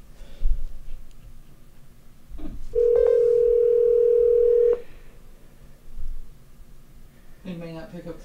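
A steady telephone dial tone sounds for about two seconds during a call, loud and unbroken, with faint background chatter and voices before and after it.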